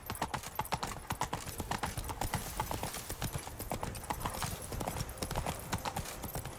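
Horse hooves clip-clop steadily at a brisk riding pace in The Witcher 3 video game, loud and close, with faint snorts mixed in and no speech.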